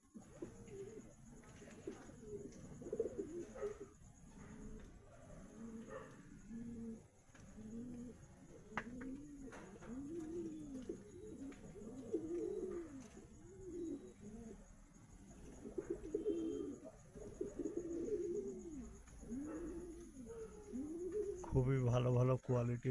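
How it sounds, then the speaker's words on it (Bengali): Domestic pigeons, all females including a Lakka hen among young and adult birds, coo steadily in a loft, a continuous layered rolling of throaty calls at close range with a faint voice in the background. "এখানে যা পায়রা আছে সবই ফিমেল"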